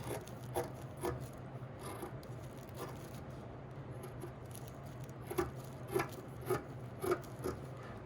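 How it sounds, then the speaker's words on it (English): Scissors cut hoodie fabric along a pattern edge, a faint steady rasping rub with a run of soft regular snips near the end, close and quiet with no talk. "Cut exactly along the cut edge."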